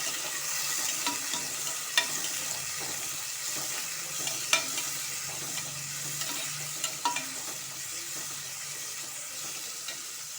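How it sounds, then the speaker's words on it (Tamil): Onion sautéing in a pan for mushroom biryani, a soft steady sizzle with light intermittent stirring clicks and scrapes, moderately quiet and close, no talking. "வெங்காயம் நல்லா வதங்கணும்."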